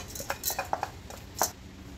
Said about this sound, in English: Now we're going to add in the basmati rice.